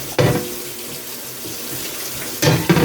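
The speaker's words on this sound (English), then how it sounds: "it's time to drain the noodles" A kitchen tap runs hard into a sink while cooked noodles are drained, a loud, steady close rush of water with sharper splashing bursts at the start and end.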